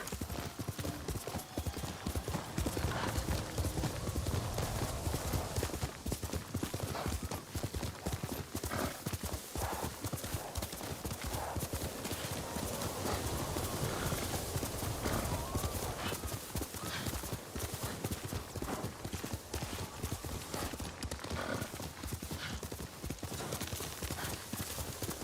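Horse hooves clip-clopping steadily with occasional neighs in the video game Guild Wars 2, heard amid a dense, loud wash of game sound and music that runs throughout.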